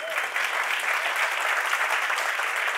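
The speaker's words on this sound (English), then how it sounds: "Give him a hand clap." Steady, dense audience applause at a family conference, a full room clapping continuously at even loudness throughout, with no talk over it.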